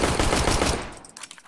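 A single loud AWP sniper rifle shot rings out in CS:GO, a heavy sharp blast that trails into a quick decay with faint clicking afterward.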